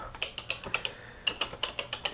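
Fingers tap out an IP address on a computer keyboard, a quick run of about a dozen crisp, light key clicks in an uneven rhythm, close and quiet, with no voice.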